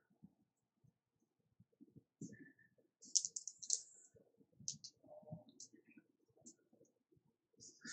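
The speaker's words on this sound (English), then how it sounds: "I'm going to shuffle these up quick." Trading cards shuffled by hand, giving a scattering of soft, close riffling clicks and slaps in short bursts with quiet gaps between them, and no talk.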